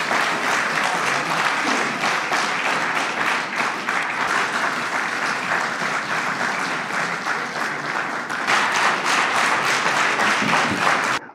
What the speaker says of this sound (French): ils ont passé tout leur temps à applaudir